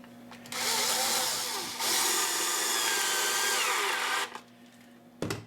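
A power drill drives a Robertson screw into plywood, whirring loudly and steadily for several seconds, pausing briefly once, then stops; a short mechanical clunk follows.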